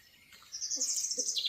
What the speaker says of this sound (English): I can hear a cuckoo.